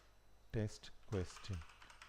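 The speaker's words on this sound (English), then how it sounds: "So let's just type a test question" A computer keyboard clicks in quick bursts as a quiz question is typed into an app, the keystrokes close and fairly quiet, overlapped by a few short voiced sounds.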